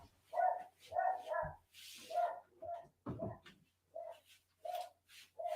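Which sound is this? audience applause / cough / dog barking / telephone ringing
dog barking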